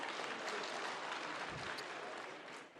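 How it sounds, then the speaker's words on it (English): At a Lake Chad Basin governors' forum in Maiduguri, an audience gives a faint, distant round of steady applause that fades slightly toward the end. "yes, a round of applause,"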